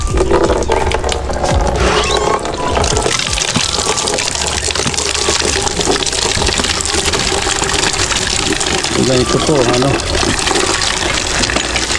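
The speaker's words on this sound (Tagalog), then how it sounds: "manual pumping po. Ito po ang source ng ating tubig dito." Water gushes steadily and loudly from a manual hand pump into an Azolla pond, a continuous rushing flow with someone briefly speaking over the start.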